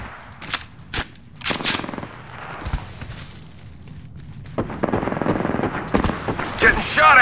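Bursts of automatic gunfire and sharp single shots in an Apex Legends firefight, coming in repeated loud volleys with brief gaps between them, with a voice speaking over the action.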